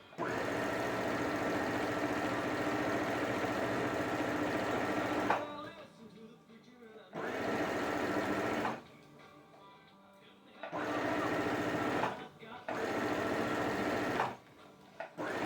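A Brother CS6000i computer sewing machine stitches fabric in several bursts of steady, rapid mechanical whirring, with short pauses between runs and someone speaking over some of the stitching.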